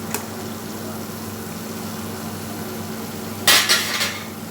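A spoon scrapes and clinks against a pan while stirring coconut and masala for a snake gourd dish over the flame, a short burst of metallic scraping near the end over a steady low kitchen hum.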